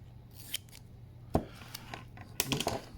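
Scissors snip material in two while making a homemade phone stand: a few sharp, separate cuts spaced about a second apart, then a quicker cluster of snips near the end, close and fairly quiet against low room hum.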